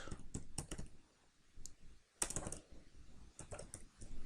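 Irregular bursts of keystrokes on a computer keyboard while entering code in a Python programming lesson, close and fairly quiet, with a pause in the middle and a louder key press after it.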